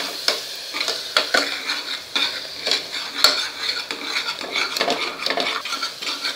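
Dry spices, ginger and garlic are sautéed and stirred in a pan for drumstick curry. A bright, crackling sizzle runs throughout, broken by frequent metal utensil scrapes and taps close up, with no voices.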